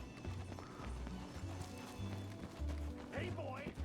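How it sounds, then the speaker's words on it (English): Horse hooves clip-clopping at a gallop in the Red Dead Redemption 2 game, a steady rhythmic run of hoofbeats mid-distance with game ambience and bits of voice over it. "Para cuando quiere llegar el caballo ya no lo necesito."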